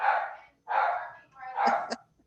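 A dog barks repeatedly in a home during an online town conservation commission meeting, three broad, close, loud yaps in a row.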